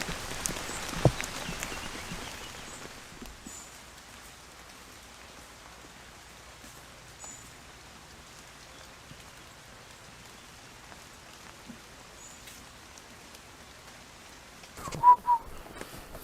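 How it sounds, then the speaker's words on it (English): Faint, quiet rain patters and drips steadily from leaves onto reed thatching at an Iron Age roundhouse, with a few soft bird whistles and a louder rustle near the end. "But it's still dripping."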